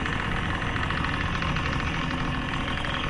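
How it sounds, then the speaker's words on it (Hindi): A scooter engine running fast on a deserted, dark road at night, a steady, loud drone holding at an even pitch without any voices. "गुल्ली काफी तेज स्कूटर चला रहा था क्योंकि रास्ता बिल्कुल वीरान था।"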